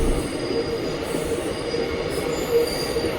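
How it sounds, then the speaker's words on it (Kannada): Ahmedabad–Yesvantpur–Chennai Central weekly superfast express rolling past near Yesvantpur, with steady loud rail noise and intermittent high wheel squeal throughout, no talking. "ನೀವೇನು ಈ ಟ್ರೈನ್ ನೋಡ್ತಾ ಇದ್ದೀರಲ್ಲ, ಈ ಟ್ರೈನ್ ಬಂದ್ಬಿಟ್ಟು Ahmedabad Yeshwanthpur Chennai central weekly super fast express."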